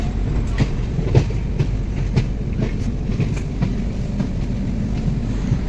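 A passenger train travels through the night on the line from New Delhi to Gaya, with steady rumbling and rhythmic clickety-clack of wheels over rail joints, loud and continuous from inside the carriage.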